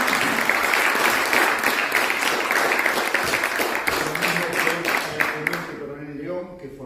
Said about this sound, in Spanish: Pido un aplauso para el señor.